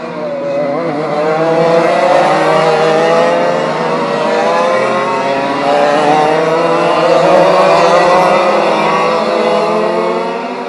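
Retro racing karts lapping a circuit at Rowrah during a Formula C retro kart championship round, engines buzzing loudly and continuously with rising and falling revs as they pass close by, no talk.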